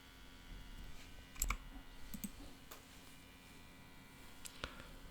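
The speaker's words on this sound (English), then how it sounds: "So now click the plus icon in your chosen section." A computer mouse gives a few sparse, faint clicks, one sharper click near the start and a couple more later, over quiet room hiss.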